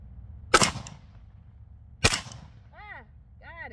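Two sharp, loud gunshots a second and a half apart at shooting targets outdoors, each with a short echo, followed by faint chirping birds.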